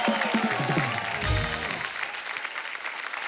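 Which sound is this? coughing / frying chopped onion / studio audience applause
studio audience applause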